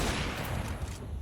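A dense, continuous rattle of rapid gunfire fills a brief moment of Counter-Strike, loud and unbroken from start to finish.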